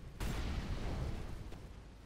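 An incendiary grenade in CS:GO on the Inferno map bursts with a sudden whoosh and settles into a sustained roar of spreading flames, brief and loud, with no talk.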